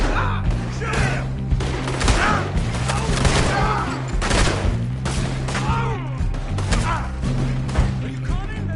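Gunfire from the Western video game Red Dead Redemption 2: a steady fusillade of shots and booming impacts running the whole time, mixed with shouting voices and a rumbling score.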